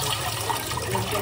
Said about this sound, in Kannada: ರೈಸ್ನ ಚೆನ್ನಾಗಿ ವಾಶ್ ಮಾಡ್ಬೇಕು